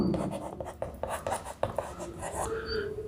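Marker or chalk strokes on a classroom board during a Hindi-medium English grammar lesson, a run of short scratchy strokes at close range with a faint voice-like hiss in the background.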